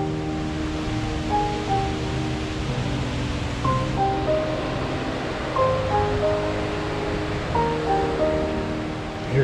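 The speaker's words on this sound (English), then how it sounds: "in the background there's just a continuous waterfall all along there" A continuous waterfall rushes along downtown Idaho Falls, a loud, steady broadband roar filling the whole stretch, with faint tonal notes drifting through it.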